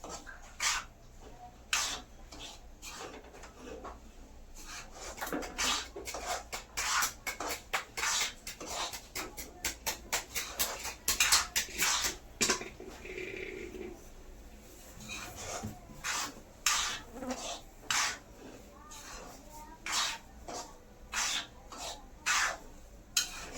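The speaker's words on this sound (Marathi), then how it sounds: "आता इथे मी रवा थोडासा भाजूनच घेते व्यवस्थित" Semolina (rava) dry-roasting in a pan, stirred with steady rhythmic scraping and rasping strokes, close and fairly loud, with occasional clinks against the pan.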